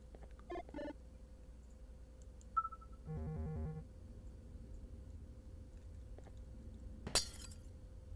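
Glass shatters with a sharp, bright crash in the horror video game Garten of BanBan, preceded by faint clinks and a short beeping tone sequence over a low ambient hum.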